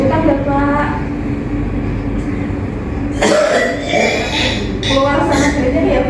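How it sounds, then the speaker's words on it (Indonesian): A patient coughs during chest physiotherapy, several rough, close coughs breaking through in bursts, with a therapist's voice talking between them. "Batukan Bapak."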